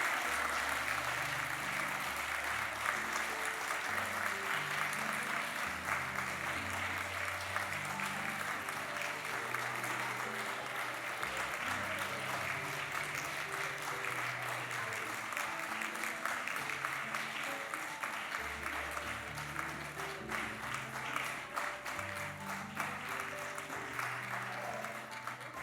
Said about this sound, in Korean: 네, 계속 박수하겠습니다.